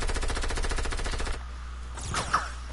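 Video game gunfire rattles in a rapid automatic burst for over a second, then cuts off, leaving a quieter stretch with a brief whooshing sweep and a sharp pop near the end.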